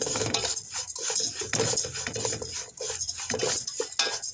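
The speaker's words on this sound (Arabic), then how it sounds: "الشعرية نحمسها زين بنات." Vermicelli toasts in a pot for biryani, a utensil scraping and clinking against the metal in quick irregular strokes, close and fairly quiet, with no talk.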